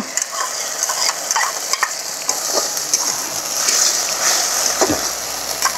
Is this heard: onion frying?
yes